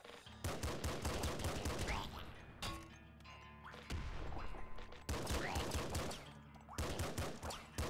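Rapid bursts of explosions and gunfire in the game Nuclear Throne, dense clattering volleys in loud stretches broken by brief lulls.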